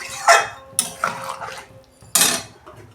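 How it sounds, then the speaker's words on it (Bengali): A metal lid clatters onto a pan of Bihari-style chicken curry, giving a few sharp clanks and scrapes of pots and utensils, close and fairly loud, with no talk. "এই যে ঢাকা দিচ্ছি 5 মিনিট"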